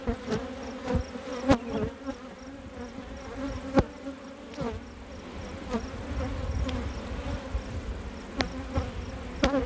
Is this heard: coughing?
no